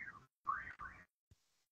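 A smart speaker sounds an alert of three short, clear electronic chimes with falling then rising pitch, followed by a faint click, quiet and close in an otherwise silent room.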